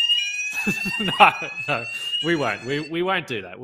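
A fire alarm sounds in a room during a basketball podcast recording, a steady electronic tone running under a man's speech.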